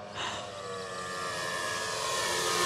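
A radio-controlled PT-17 Stearman scale model biplane with a 1600 mm wingspan drones overhead on a spring day, a steady engine hum that swells slightly louder as it passes.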